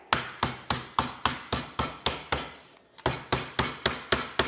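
Repeated heavy smacks on cucumbers being crushed flat on a clean kitchen counter for smashed cucumber salad, about a dozen sharp, loud thuds in a steady rhythm with one short pause, no talking.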